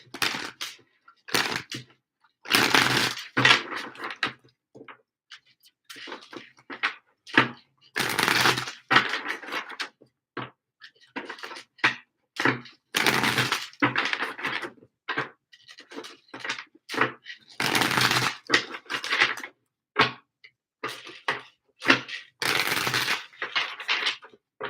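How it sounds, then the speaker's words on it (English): Tarot cards being shuffled by hand in repeated bursts of crisp riffling and slapping, separated by short pauses, close and fairly loud with no talk. "2 more shuffles for super chat questions, please."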